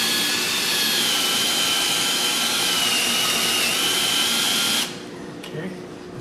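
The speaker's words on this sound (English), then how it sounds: "So I take a step drill and drill me a little hole there." A step drill bores a small hole while a very large goblet is being made, giving a loud, steady whine for about five seconds before cutting off abruptly into quieter handling sounds.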